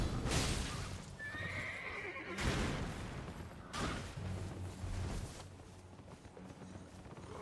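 A horse whinnies loudly in the Elden Ring video game, with heavy hoofbeats clopping and thudding as it moves, accompanied by bursts of combat noise and no talking over it.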